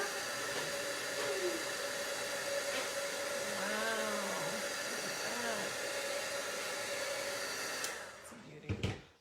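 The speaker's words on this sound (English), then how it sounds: "Now I'm going to heat emboss this." A heat gun used for heat embossing blows with a steady loud whooshing hiss close by, a faint voice murmuring underneath, then switches off with a few clicks and handling knocks.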